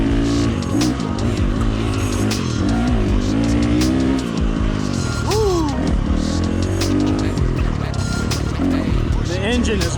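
A motorcycle engine fitted with a Tokyo Mods Vortex ECU revs hard and loud throughout, its pitch climbing and falling in repeated sweeps up the rev range, with a rider talking over it.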